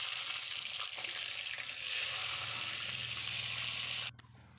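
Potatoes frying in a pan for a mutton curry give a soft, steady sizzle with faint stirring, heard quietly and alone until it cuts off abruptly near the end.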